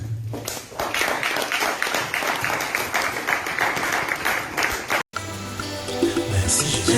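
Congregation applauding at a French-language church Bible seminar, sustained rhythmic clapping from a crowd, steady and fairly loud, briefly cut off before resuming with music underneath.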